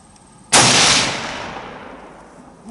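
A single loud, sharp shot from a Kar98k bolt-action rifle (BNZ 41) cracks close by outdoors, then rings out in a long fading echo.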